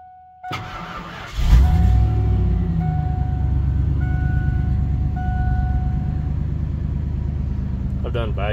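A roughly 30-year-old parts truck engine cranking briefly with a few warning chimes, then catching and settling into a loud, steady, close rumbling idle, with a voice briefly at the end.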